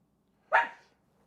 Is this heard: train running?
no